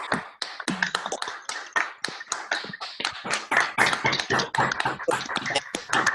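Lively applause for a speaker at the close of a talk by Dr. Omar Ozafrain, with sharp, irregular hand claps throughout and no voices.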